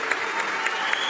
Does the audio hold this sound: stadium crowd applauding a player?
yes